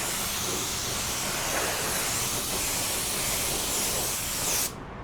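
A paint spray gun lays down a fine-droplet coat of paint, producing a loud, steady close hiss that runs unbroken for several seconds before cutting off abruptly.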